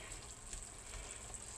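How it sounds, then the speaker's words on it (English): Beef frying in a pan gives off a steady, faint, hissing sizzle with no voices over it. "Now we got it sizzling."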